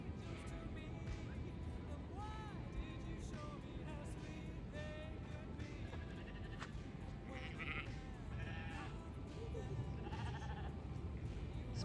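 Sheep bleat repeatedly in a field beside a canal where a barge is moored, several calls at mid distance overlapping one another, with a quiet voice talking in the foreground.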